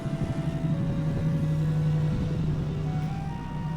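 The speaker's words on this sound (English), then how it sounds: "you could probably hear the truck that just drove by" A truck rumbles past with a steady, low engine drone that fills the whole stretch.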